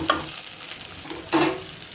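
Vegetables frying in a pan give a steady, close hiss of sizzling, with a couple of brief louder scrapes or stirs, one near the start and another around the middle.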